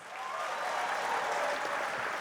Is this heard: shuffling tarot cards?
no